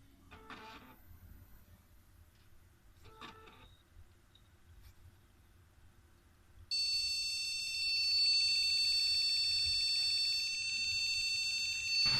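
A desktop computer fitted with Corsair XMS3 memory modules that fail to work powers on, with a few faint clicks followed by a loud continuous electronic beep that starts partway through and holds steady to the end.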